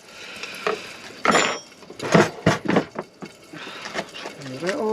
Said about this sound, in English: bring out my huge chopping board